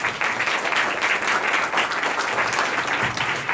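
An audience at a debate forum on dictatorship gives loud, sustained applause, many hands clapping in a dense, even burst that carries on throughout with no voices heard over it.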